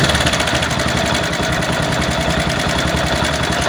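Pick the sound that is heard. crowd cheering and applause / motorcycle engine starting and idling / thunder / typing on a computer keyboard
motorcycle engine starting and idling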